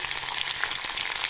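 Curry leaves frying in hot oil, giving a close, continuous crackling sizzle with bright spitting pops throughout a short stretch.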